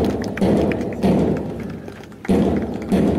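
CISF parade contingent marching in step at an anniversary raising-day parade, boots striking together in heavy, regular thuds roughly every second, loud and close with a reverberant outdoor crowd background.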